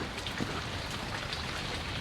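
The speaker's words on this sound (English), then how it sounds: "So the rain came down pretty heavy" Heavy late-May rain pours down steadily in a garden, a dense, unbroken hiss of drops close by with no other sounds.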